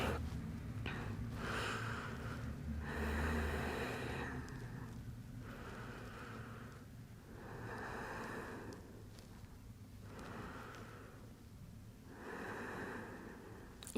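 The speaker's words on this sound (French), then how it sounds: "Et on prend encore 3 respirations." Slow, deep breathing during a pilates class, several long airy inhale-exhale cycles of a few seconds each, quiet and close over a faint background hum.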